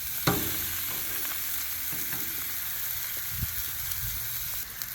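Meat sears on a Blackstone flat-top griddle with a steady, close sizzle, broken near the start by a sharp clatter and a few lighter knocks as it is handled.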